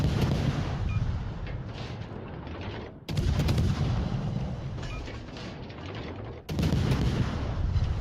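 Naval gunfire in a warship video game, heavy booming salvos in rapid rolling bursts with two sharp fresh volleys cutting in, loud and alone.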